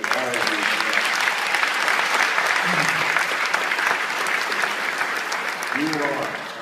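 Sustained audience applause fills an awards ceremony at a technical school, steady and dense for several seconds, with faint voices surfacing near the start and end.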